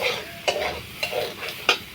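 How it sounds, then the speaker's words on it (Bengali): Mango for a spiced village-style chutney sizzles softly in a pan while a spoon scrapes and stirs, with several sharp clinks against the pan over the frying hiss. "এবার আমটাকে ভালো করে আরেকটুক্ষণ কষিয়ে নেব।"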